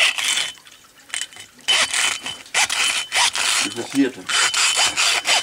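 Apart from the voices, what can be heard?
hacksaw sawing through a fish head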